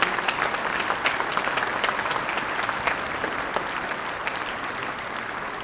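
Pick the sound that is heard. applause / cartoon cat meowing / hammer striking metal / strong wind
applause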